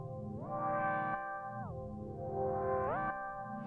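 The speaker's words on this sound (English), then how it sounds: "That kind of ring sound, that's the sound of glide." A sampled synth patch in Ableton Live's Simpler, set with a 102 ms glide and long release, slides smoothly up and down between two sustained notes in a ringing tone, each pitch change audible as a brief swoop, played alone.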